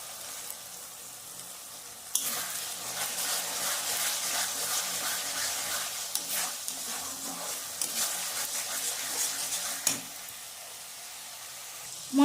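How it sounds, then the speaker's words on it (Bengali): Spices with turmeric and Kashmiri chili powder fry in oil for a mutton dish, giving a steady, close sizzle with scraping stirs and a louder burst of frying partway through. "মশলাটা কষতে থাকুক, মশলা থেকে তেল ছেড়ে এলে এরপরে মাটনটা দেব।"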